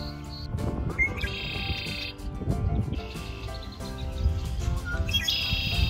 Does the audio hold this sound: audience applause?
no